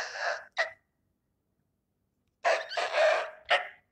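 A man imitates the crow of a wild jungle fowl with his voice: a short breathy burst, a pause, then a longer strained crowing call ending in a clipped final note.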